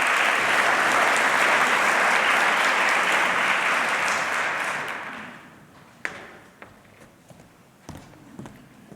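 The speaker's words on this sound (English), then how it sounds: "so please give Jake a big round of applause." Conference audience applause swells full and loud for an artist taking the stage, then thins out over a couple of seconds into a few scattered claps and small knocks in a quieter room.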